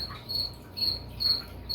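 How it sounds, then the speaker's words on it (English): Pet cricket kept in a terrarium, chirping in three short high trills at a steady rhythm, close and moderately loud against a quiet background. "my cricket's going nuts"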